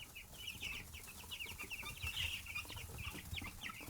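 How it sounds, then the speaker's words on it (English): Young broiler chickens cluck and peep in a rapid, overlapping chatter, fairly faint and close, with no talking. "Look out, chickies."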